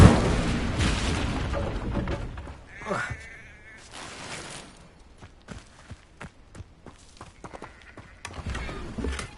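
In Hogwarts Legacy, an Incendio fire spell is cast several times. Whooshing bursts of flame rise and fade, mixed with footsteps and other scattered game sounds.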